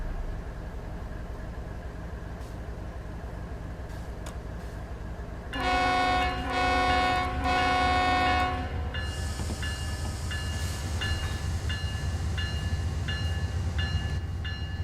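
A BNSF diesel locomotive in the Train Sim World 3 game, in reverse on Cajon Pass, rumbles steadily. A multi-tone horn blasts for about three seconds, then the engine drones on with a low throb as the throttle comes up.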